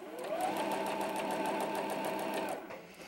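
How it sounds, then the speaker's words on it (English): A sewing machine stitching a quarter-inch seam in fabric, including a backstitch, heard as a steady close whirring hum of rapid needle strokes that runs for about two and a half seconds and then slows and stops. "I'm gonna sew a little bit in backstitch."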